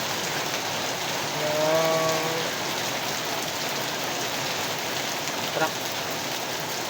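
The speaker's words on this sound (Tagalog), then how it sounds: "super lakas ang ulan" Steady, heavy rain pours throughout as a dense, even hiss, with a brief murmur of a voice partway through.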